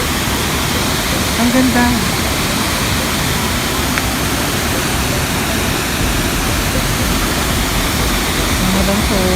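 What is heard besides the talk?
Tangadan Falls waterfall, San Gabriel, La Union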